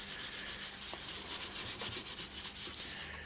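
Steady rhythmic scrubbing of finish into the grain of a sycamore bowl with yew inlays, mounted on a stopped lathe, a close, continuous rubbing with regular strokes and no talk.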